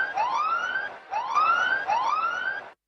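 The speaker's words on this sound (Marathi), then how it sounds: "सायरन वाजला गेलाय." A siren sounds at a cricket match, three rising electronic wails in quick succession, loud and clear with no voices over it.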